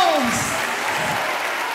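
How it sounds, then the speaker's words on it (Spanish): Loud applause from a church congregation fills the whole stretch at a gospel tribute honoring veteran Christian string duos and trios, a dense steady wash of clapping with voices mixed in. "Denle un fuerte aplauso a Cristo"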